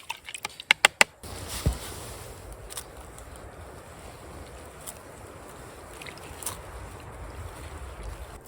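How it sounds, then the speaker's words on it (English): Steady wind gusting through a wet forest in November, a broad even rush that swells slightly toward the end, preceded by a few sharp knocks and clatters near the start. "The wind has started to pick up a bit"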